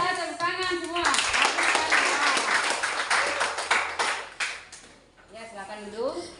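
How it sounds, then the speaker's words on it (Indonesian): Students in a classroom clap together for a few seconds, a dense burst of hand claps framed by a teacher's voice before and after. "Ya, tepuk tangan semua."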